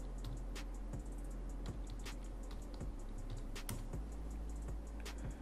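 Steady keystrokes clatter on a computer keyboard, a continuous run of quiet, close taps and clicks over a low background hum.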